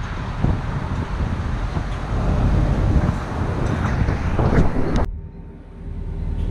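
Loud, gusty, dusty wind in the Jazan Region of Saudi Arabia roars and buffets the microphone for several seconds, then cuts abruptly to a quieter, muffled bus interior rumble.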